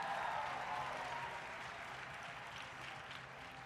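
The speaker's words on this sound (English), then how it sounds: "Big round of applause for everybody." Audience applause at the 2020 Crown Championships of Cosplay awards, a soft, even wash of clapping heard from a distance that fades slightly toward the end.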